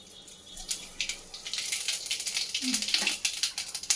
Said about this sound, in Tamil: ஆயில் சுட்டுச்சு, கொஞ்சம் சோம்பு போட்டுக்கலாம்.